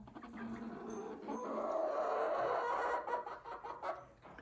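A rooster makes a low, drawn-out clucking call nearby, fairly faint, with no speech.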